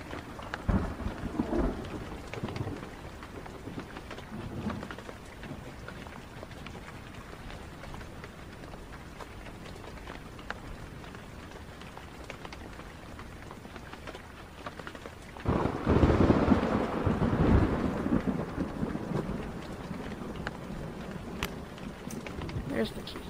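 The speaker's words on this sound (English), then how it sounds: "And then rain outside." Steady rain patters outside in the Blair Witch video game, with low rolls of thunder building into a louder, rumbling burst partway through, the storm staying as a constant backdrop.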